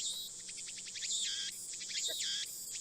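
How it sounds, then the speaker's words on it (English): Cicadas buzz and chirp in the video game Steins;Gate, a steady close insect drone with rhythmic pulsing bursts, heard alone without voices. "The only sound is the chirping of cicadas."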